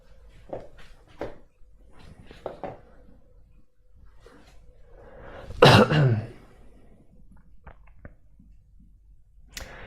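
A single harsh cough or throat-clearing burst stands out near the middle, surrounded by quieter clicks and faint rustling in an otherwise quiet room.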